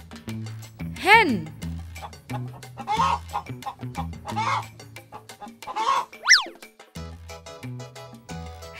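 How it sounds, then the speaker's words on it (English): A hen clucks in a few short bursts, ending in a higher squawk, while upbeat music plays underneath. "Hen."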